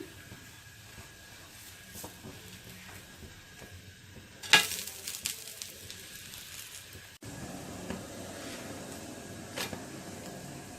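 Foxtail millet pesarattu fries quietly on a hot pan, a soft steady sizzle broken by a scrape as it is turned, then a fuller, louder hiss as the second side cooks, with no voices.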